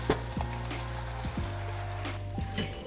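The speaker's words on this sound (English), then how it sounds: "The sizzle." Pastrami sizzles steadily in a hot pan, a continuous crackling hiss broken by a few sharper pops and clinks, fairly close and with no talking.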